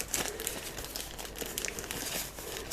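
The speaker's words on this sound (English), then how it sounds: "Okay, let's open these up so you can actually see them." Plastic packets of Motikom motorcycle intercom accessories being opened, a steady close crinkling and rustling of plastic film with small crackles throughout and no talking.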